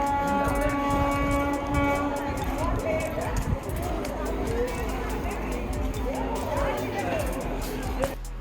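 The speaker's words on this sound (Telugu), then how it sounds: "మనమైతే చెర్లపల్లి రైల్వే స్టేషన్లో ఉన్నాము" A busy platform at Cherlapalli Railway Station, Hyderabad: a train rumbles and hums while voices chatter, with a brief horn-like tone and clanks near the end.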